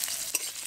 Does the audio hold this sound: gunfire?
no